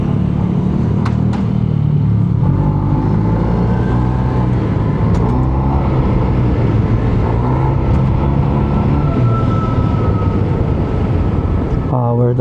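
Steady, loud engine drone of a Yamaha TMAX 560 maxi-scooter pulling hard on a city street, with a continuous rumble and rising whine throughout, wind noise, and no clear talk.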